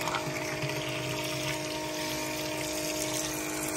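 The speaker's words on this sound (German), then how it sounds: "Die Pumpe, die eigentlich nur für Wasser gedacht ist." A water pump pumps liquid out of a tank, giving a constant whirring hum mixed with rushing, splashing water, close and unbroken throughout.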